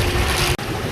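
A motorboat's engine runs on open water during a ride home, a loud, steady drone blended with rushing wind and spray, briefly dipping for an instant before continuing unbroken.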